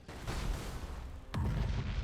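Broadside cannons firing in Battlefleet Gothic Armada 2 space combat, a dull rumbling barrage with a sharp heavy boom partway through followed by sustained low thundering.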